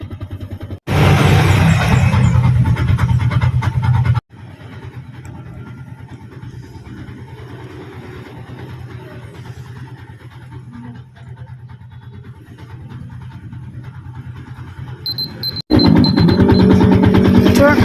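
Motorbike engine idling while warming up, a steady low rumble running throughout, with much louder, harsher stretches near the start and again at the end.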